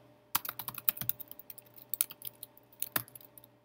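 Keys clatter on a computer keyboard while code is typed, a close, irregular run of crisp taps with a few louder keystrokes and short pauses between bursts.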